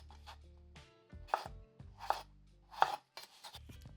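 A knife chops potatoes into bite-sized pieces for an Indian aloo gobi, giving several sharp, close board knocks spaced unevenly, with a few lighter cuts toward the end and no talking.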